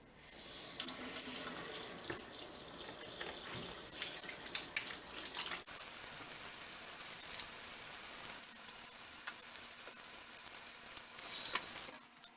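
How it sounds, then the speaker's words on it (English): Hands washed under a running kitchen tap, a steady, close hiss of flowing water with splashing that lasts throughout, no talking. "It's very important to wash your hands before eating your cookies."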